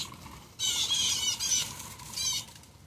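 A crow squawks and flaps its wings in a few harsh, noisy bursts close by, with short pauses between them and no one talking over them.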